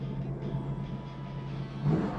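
A Plymouth GTX with a Hemi engine idles and revs at a Mopar car show, a steady low rumble that swells into a louder rev near the end.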